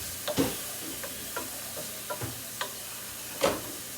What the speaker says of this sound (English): we're going to let this saute another minute